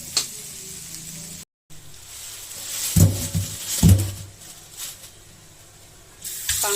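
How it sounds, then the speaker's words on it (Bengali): Ivy gourd (kundru) frying in a pan with salt, turmeric and chilli powder, giving a steady close sizzle with brief louder crackling bursts partway through. "কুঁদরুটা ভাজা হতে অনেক টাইম লাগে, এখনো হয়নি ভাজা।"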